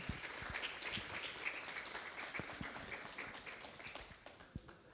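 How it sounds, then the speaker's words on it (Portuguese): Audience at a literary café book launch clapping, a faint, fairly thin applause with scattered individual claps that continues steadily for several seconds and tapers slightly at the end. "Uma salva de palmas."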